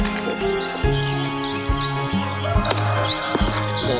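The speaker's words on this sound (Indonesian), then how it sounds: "Dan ini burungnya lagi mandi." A cucak cungkok bird chirps in short, scattered calls while bathing, set against a steady tonal background with no clear splashing.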